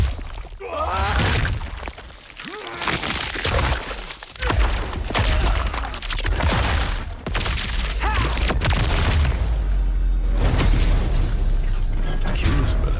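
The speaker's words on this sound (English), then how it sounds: "Explosion on that guy." Video game explosions and gunfire boom in dense, loud bursts with crashing debris, one blast after another over a steady rumble, during a stream of gameplay shown at Summer Game Fest 2023.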